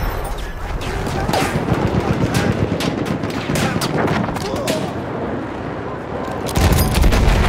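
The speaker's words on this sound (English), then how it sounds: "Enemy machine gun!" Dense, sustained machine gun fire in Battlefield 1, loud and continuous with layered rapid bursts and booms throughout, ending in a sharper close volley, with no voices audible above the gunfire.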